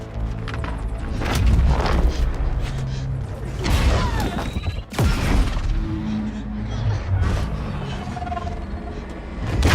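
Gunfire and explosions from the final run of Mirror's Edge Catalyst, with repeated heavy booms, crashes and impacts across a busy, loud battle scene and voices shouting in the mix.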